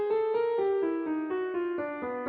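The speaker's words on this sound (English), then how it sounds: "So the inversion of our row would sound like this." A piano sounds the inversion of a twelve-tone row, roughly ten to eleven separate notes in an even, moderate rhythm, each ringing briefly into the next, close and clean with no voices.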